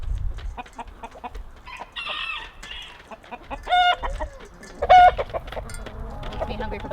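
A rooster clucks in bursts, with other fowl audible and a short crow near the middle. A faint voice also comes through.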